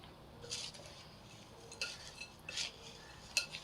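A spoon clinks against a bowl while dry Mumbai-style sukhi bhel mixture is stirred, a few light metallic taps and scrapes spaced apart, close and quiet.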